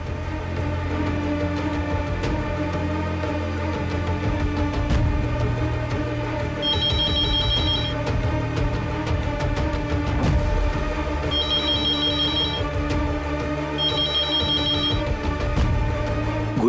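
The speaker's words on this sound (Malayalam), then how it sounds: "അവിടെ ആരും ഫോൺ എടുക്കുന്നില്ല" A telephone rings on unanswered, its repeated ring bursts returning in several spaced groups over a steady backdrop of music and ambience, with no one speaking.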